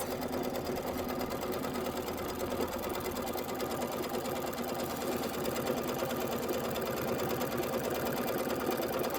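An embroidery sewing machine runs a tack down stitch on a witch hat pillow piece, a fast steady rattling needle chatter that continues evenly and close throughout without pause.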